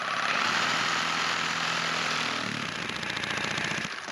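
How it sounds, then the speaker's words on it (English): A Milwaukee Sawzall reciprocating saw fitted with a DeWalt blade cuts material for a horse stable water system, a loud, continuous buzzing rattle lasting a few seconds before stopping abruptly. "you may have noticed I'm using a Milwaukee Sawzall with a DeWalt blade"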